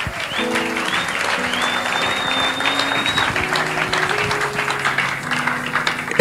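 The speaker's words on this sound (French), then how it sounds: "Est-ce qu'il y a quelqu'un qui peut acclamer pour Dieu?" A church congregation claps and cheers for God during a French-language service, with steady sustained applause from a large crowd over music and shouts.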